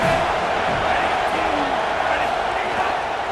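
Steady stadium crowd roar in a college football video game, a dense continuous wash of noise from a crowd trying to keep the opposing offense pinned deep, with faint voices in the mix.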